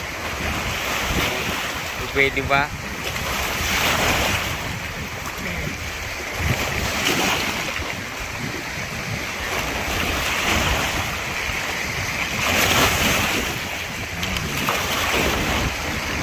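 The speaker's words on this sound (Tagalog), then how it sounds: "kahit malaki ang alon malaki, malaki ang alon mga idol" Continuous roar of surf and crashing waves with strong wind buffeting the microphone, a brief spoken phrase near the start.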